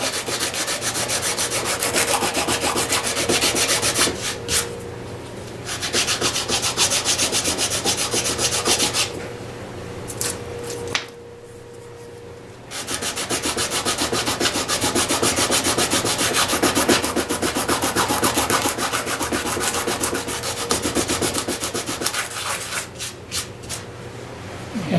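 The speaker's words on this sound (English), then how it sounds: "So these need sanding." Steady abrasive rubbing of sandpaper on model railway scenery, loud and close, with continuous scratchy strokes broken by two short pauses.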